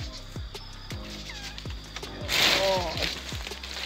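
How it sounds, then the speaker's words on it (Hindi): A cat meows for food in a village, with one drawn-out meow over a background of regular clicking and rustling noises. "और यहाँ पर है पचूंगा, खाना मांग रहा है"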